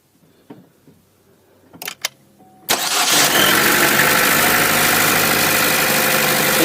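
A 2014 Chevy Cruze, after a crank-no-start fault was fixed, gives a few quiet clicks and a brief crank before the engine catches and settles into a loud, steady idle.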